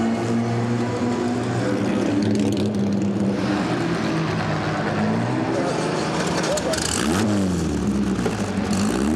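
A historic race car engine revs and accelerates at the Le Mans Classic, loud and close with rising and falling pitch sweeps, while a voice talks over the engine noise.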